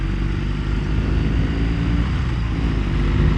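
A BMW R18 motorcycle in rock riding mode pulls hard as the throttle is rolled on, giving a steady, close engine drone that swells slightly toward the end.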